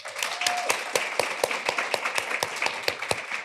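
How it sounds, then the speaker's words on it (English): A seminar crowd at the City Lodge Hotel in Durban, KZN, applauds itself with a sparse, fairly quiet patter of claps, a few distinct sharp hand claps repeating at a steady rhythm. "Give yourselves a round of applause"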